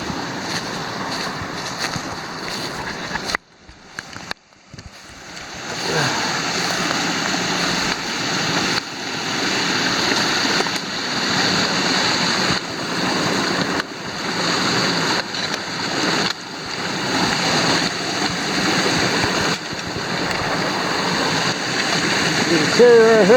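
Creek water flows beside a hiking trail on Pennsylvania's Mid State Trail, a steady broadband rush that holds close and fairly loud throughout, with a brief dip near the start.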